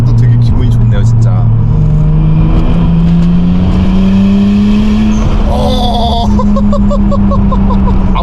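A right-hand-drive JDM car's engine droning and rising in pitch as the accelerator is pressed, loud and close inside the cabin, with a person talking over it.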